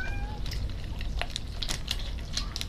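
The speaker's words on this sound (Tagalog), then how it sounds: "Pati pusa, nandyan na." A house cat meows near a table during a meal of lechon manok, its cries short and high against steady background noise and clatter, with faint voices.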